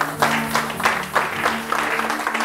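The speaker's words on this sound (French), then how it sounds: "Je veux que tu acclames maintenant pour lui." Church congregation applauding and cheering for the pastor during a service, irregular swelling bursts of clapping and cries from a crowd at moderate volume.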